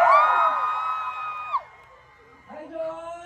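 Fans scream and cheer at a band's fan event celebrating milestones, a loud burst of crowd shouting that fades after about a second and a half, followed by quieter murmuring and a few raised voices.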